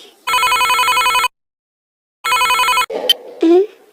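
A telephone rings in two electronic bursts with a pause between, followed by brief rustling and a short voice.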